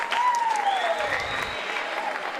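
Crowd applauding and cheering in a gym after a close 7-5 high school wrestling win, a steady wash of clapping with a whistle-like tone gliding over it.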